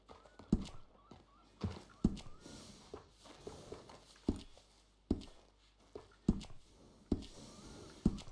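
A horse walks at an even pace in the video game Red Dead Redemption 2, its hooves striking in a regular clip-clop of crisp, close thuds with quiet gaps between them.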